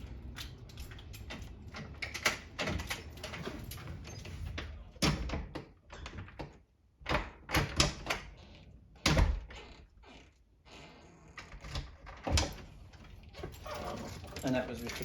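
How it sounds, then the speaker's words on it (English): A house door fitted with a tri-lock handle lock is opened and shut several times, giving sharp knocks, latch clicks and thuds at close range in an irregular rhythm. "open and close the door"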